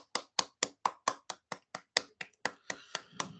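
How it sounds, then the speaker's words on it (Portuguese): A small group claps in a home religious gathering, about fourteen sharp, evenly spaced claps in a steady rhythm, close and distinct, fading slightly toward the end. "E a Jesus, as nossas palmas."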